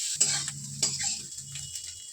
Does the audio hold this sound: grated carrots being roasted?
yes